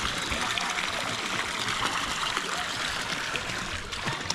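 Water rushing down a stream bed after being diverted from its usual path, a steady, close, broadband gush with no breaks and no talk over it.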